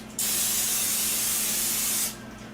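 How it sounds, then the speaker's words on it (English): Pam pure olive oil cooking spray sprayed onto a muffin pan, one steady hissing burst of about two seconds, close and loud with no talk. "So I just have pure olive oil spray from Pam."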